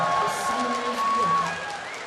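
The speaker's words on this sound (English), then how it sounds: "let me hear you cheer for Legion" A crowd at a League of Legends NA Regionals esports match, CLG versus Legion, cheers for Team Legion as a loud, steady roar with whoops and scattered clapping lasting the whole moment.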